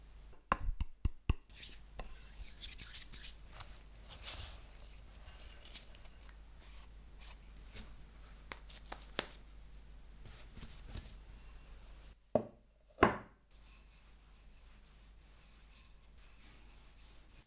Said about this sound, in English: Butter, sugar, 1 egg, flour. Mix just until it comes together, no more.